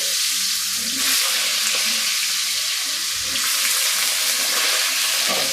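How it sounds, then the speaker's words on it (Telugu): Potato pieces frying in a pan for veg masala rice, a dense continuous sizzle close by with faint spoon movements, steady and fairly loud throughout. "ఇవి కూడా కొద్దిగా వేగనిద్దామండి పొటాటోస్ కుక్ వచ్చేసి బాగా వేగనిద్దామండి"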